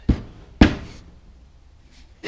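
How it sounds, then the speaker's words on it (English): A hammer head is struck onto its handle, giving two dull, solid knocks about half a second apart, followed by a quieter third impact near the end. "So now I just need to hammer that on."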